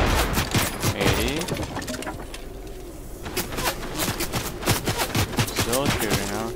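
Video game gunfire crackles in repeated sharp bursts through the whole stretch, close and loud, with a brief lull in the middle and a voice talking over parts of it.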